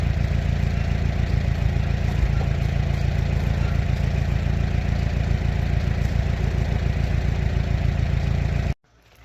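A Farmall H tractor engine, bought at auction as a non-runner, idles steadily and loudly with an even low chugging beat, then cuts off abruptly just before the end.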